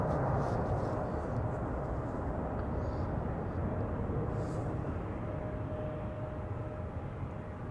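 Saudi Cargo cargo plane arriving on the central runway at Amsterdam Schiphol Airport: a steady, loud broadband jet roar that holds evenly throughout and eases only slightly toward the end, with no voices.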